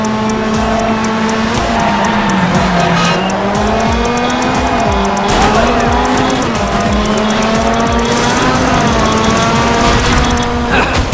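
Race cars roar and rev in a Dirt Showdown elimination race, loud layered engine whines rising and falling with tire squeals and skids throughout, continuous and close.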